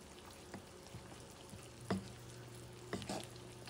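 Carrots and beef cubes cooking over medium heat in a pan, a faint, steady low sizzle with a few soft clinks and stirring sounds.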